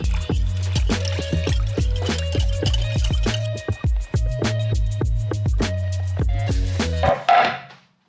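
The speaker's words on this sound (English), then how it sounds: "Whisk to combine." Tofu marinade with Aleppo chili pepper being whisked in a bowl, a fast, steady run of close, ringing taps and wet clicks that stops abruptly near the end, with no talking.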